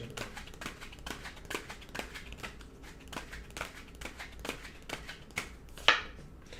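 A deck of tarot cards shuffled by hand during a reading; crisp, rapid riffling snaps repeat in an irregular rhythm, close and clear, with a sharper flick near the end.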